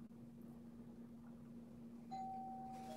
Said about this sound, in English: Oh, and the doorbell's ringing.